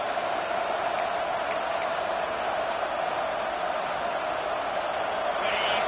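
Football stadium crowd roaring steadily through a college game between the Rainbow Warriors and the Bulldogs, a loud dense wash of noise with a few whistles over it.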